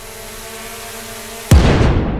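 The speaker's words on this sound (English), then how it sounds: "After several explosions," A sudden heavy explosion from a drone strike on a building booms after a low background hum, its rumble and debris noise lingering for a moment.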